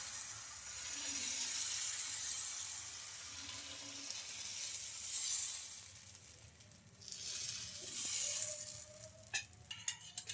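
Peanut and vermicelli dosa batter sizzles on a hot pan in a steady, close hiss that runs the whole time, with a few light scraping touches near the end and no talking.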